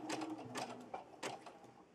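A sewing machine running a zigzag stitch around a fabric flower applique, a soft rapid mechanical whirring with faint rhythmic needle clicks, close but quiet.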